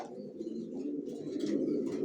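Racing pigeons coo in a loft in low, throaty, overlapping murmurs, close and continuous, with faint flutters and soft chirps in the background.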